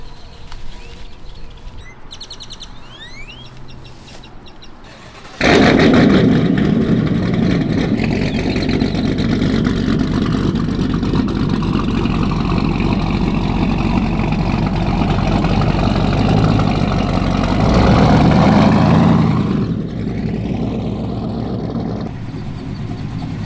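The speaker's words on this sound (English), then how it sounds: "Family car that goes chop, chop, chop, chop, chop, chop." A cammed pickup truck engine with a full cylinder deactivation delete fires up and settles into a loud, lumpy, choppy idle that rumbles close by for a long stretch before dropping off.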